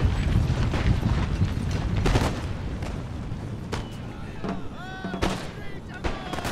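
Musket volley fire in Empire Total War, a dense crackle of many shots with booming reports and clattering mechanisms, followed by scattered later shots as the line reloads, with voices under the gunfire.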